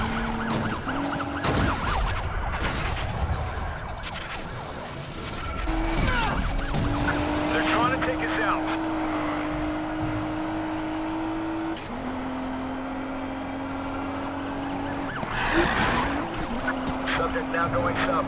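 An Audi RS7 drifts in Need for Speed Payback with sustained tire squeal and engine roar, while police sirens wail and radio voices talk over the chase.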